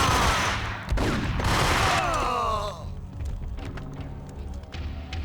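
Shots ring out in the noir action shooter Max Payne, a loud volley in the first couple of seconds that trails into sparser, quieter cracks and thumps.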